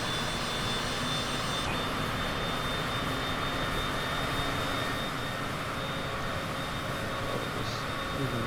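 A Citation CJ4 business jet in Microsoft Flight Simulator 2020 sits at Daytona Beach International with its engines running. They make a steady, dense roar and a faint high whine that do not change over several seconds.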